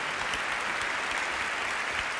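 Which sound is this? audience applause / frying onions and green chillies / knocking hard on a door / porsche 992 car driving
audience applause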